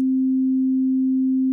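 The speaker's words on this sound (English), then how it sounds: "you play the sine wave" Pure sine wave test tone played from a synthesizer, a single steady low-pitched hum held at constant loudness throughout, clean and alone.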